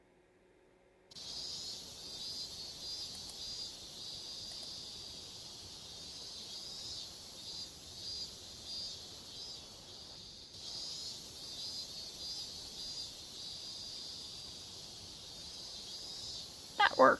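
A loud, continuous cicada drone from an anime soundtrack, a bright steady buzzing chorus starting abruptly and holding with slight pulsing, briefly dipping midway before resuming.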